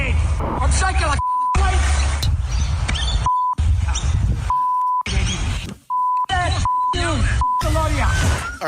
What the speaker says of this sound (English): all the beeps were in place